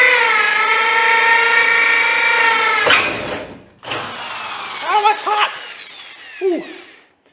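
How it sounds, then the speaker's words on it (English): A power drill with a 1/4 inch bit whines steadily for about three seconds, then stops; after a pause come a few short bursts of drilling into a metal trailer channel. "put this drill bit back in and drill through the channel underneath"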